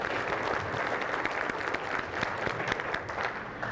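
An audience at an engineering conference keynote breaks into steady applause, a dense, even wash of many hands clapping throughout.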